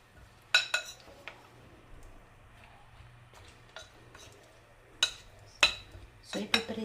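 Utensils stirring shrimp batter in a bowl give a few sharp, scattered clinks and taps, clustered near the start and end with quiet, soft scraping between.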